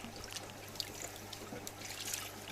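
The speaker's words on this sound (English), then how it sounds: "my fist on the bottom of the bucket, just push into the sponge, force the water through it." Muddy water forced from a sponge pressed against the bottom of a bucket, a faint, steady trickling and dribbling stream with soft splashes throughout.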